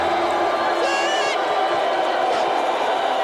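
A stadium crowd roars steadily at a Legends Football League game between LA Temptation and Atlanta Steam, a dense, continuous wash of cheering with a brief whoop rising above it.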